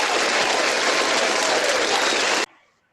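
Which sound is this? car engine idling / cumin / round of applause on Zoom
round of applause on Zoom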